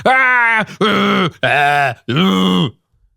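A voice imitates four drawn-out, upset groans in a row, each loud and moaning, with short breaks between them.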